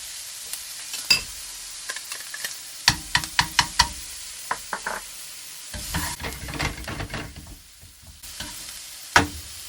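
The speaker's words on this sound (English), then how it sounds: "Just going to let the leeks cook for a minute" Leeks and garlic sautéing in butter in a pan over medium-high heat, with soft sizzling broken by a run of sharp utensil knocks and scraping stirs, close and fairly quiet.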